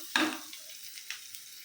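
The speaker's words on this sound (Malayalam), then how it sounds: "ഇപ്പോൾ നമ്മുടെ ഉള്ളി ഇവിടെ നല്ലപോലെ മുരിഞ്ഞ് വന്നിട്ടുണ്ട്" Onions frying in a pan for a home-style chicken roast, a brief burst of sizzle and stirring near the start that settles into a faint, steady crackle.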